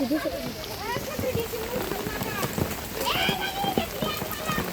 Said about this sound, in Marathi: परत पाऊस आला मित्रांनो